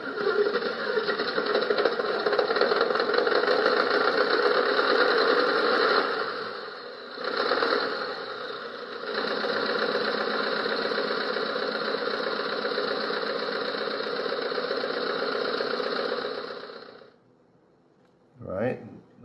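A model Scania truck's simulated engine drone idles with a slight knocking texture, dipping briefly twice before cutting off; a short noise follows near the end.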